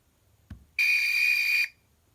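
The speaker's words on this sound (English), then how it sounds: "it was the whistle again" A soft thump, then one loud, shrill whistle blast holds a steady pitch for almost a second before cutting off.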